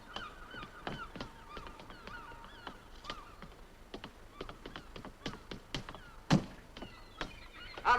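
Fowl in a 1950s comedy scene, irregular honking clucks and squawks scattered over several seconds alongside sharp clatters, moderately faint and without talk.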